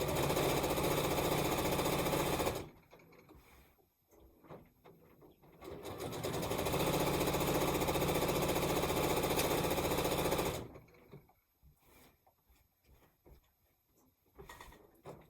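A sewing machine quilting fabric runs in two loud, steady bursts, one of about two and a half seconds and a longer one of about five seconds, each separated by quieter handling noises.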